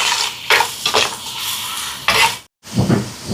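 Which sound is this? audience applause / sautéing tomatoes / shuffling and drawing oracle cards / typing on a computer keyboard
sautéing tomatoes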